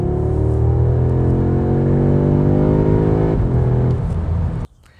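A 2021 Audi S3 engine revving up under acceleration, a loud close drone rising steadily in pitch for about four seconds before a brief shift, then cutting off abruptly to near quiet.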